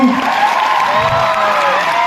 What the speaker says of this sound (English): want to give you a huge round of applause